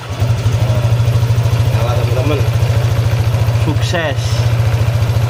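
A Honda PCX 150 scooter engine starts and settles into a steady, close, loud idle with an even pulsing rhythm, while someone speaks over it.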